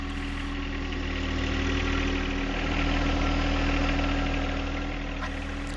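A heavy diesel engine of a John Deere 1025R compact tractor idles steadily nearby, a constant low rumble with a knocking pulse and no voices.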